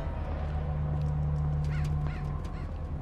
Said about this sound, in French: Oh les corbeaux qui font flipper.